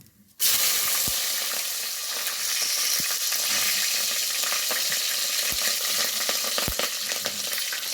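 Whole spices and masala sizzle loudly in hot ghee for Telugu-style bagara rice, a steady close frying hiss that starts abruptly and holds with occasional sharp pops and clinks of stirring.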